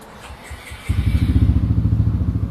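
Yamaha X-Max scooter engine starting: a few quiet clicks, then the motor catches and settles into a loud, rapid, pulsing idle close by, with no one talking.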